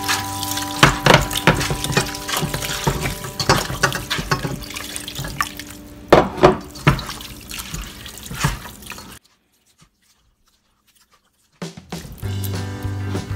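Water poured into a pot for egusi-style minced meat soup, running and splashing steadily for about nine seconds with drips, then a few seconds of near silence before kitchen clatter resumes.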